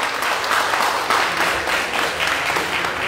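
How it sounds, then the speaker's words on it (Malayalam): Steady applause from an audience at an award gathering, many hands clapping continuously and fairly loud, with no pauses. "ഈ കയ്യടി നിങ്ങൾ കേൾക്കുന്നുണ്ടല്ലോ ഈ കയ്യടി കേൾക്കുന്നുണ്ട് നിങ്ങൾ"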